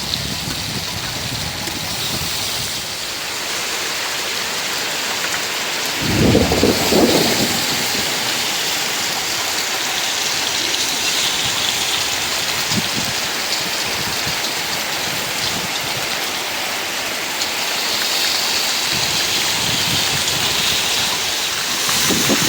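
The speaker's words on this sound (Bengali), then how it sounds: "বৃষ্টি কিন্তু বলতে বলতে চলে আসলো।" Heavy rain pours steadily as a dense, constant hiss, with a brief deeper rumble of thunder rising midway and fainter swells later.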